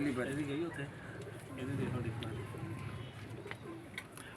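Teddy pigeons coo steadily in soft, low, repeated calls, with people talking faintly underneath.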